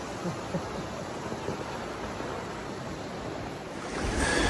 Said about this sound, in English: That water's ripping.